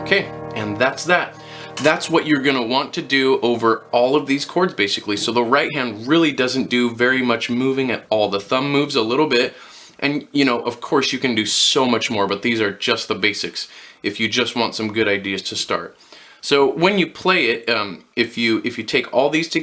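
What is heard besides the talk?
No distinct noise like a dog, phone or traffic.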